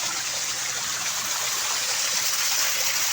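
Water flows steadily at an old Japanese-era well, a continuous soft hiss and trickle, fairly faint and even throughout, with no talking.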